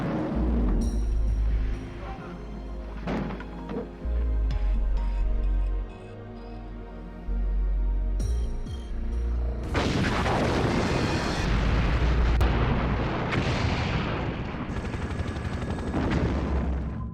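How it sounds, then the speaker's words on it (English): Special effects explosions blowing up a miniature of the Piz Gloria Alpine hideout for a Bond film: a run of heavy booms and blasts with rumbling low end, bursts stacking up, denser and louder in the second half. "The attack on Blofeld's Alpine hideout Piz Gloria featured a number of special effects explosions"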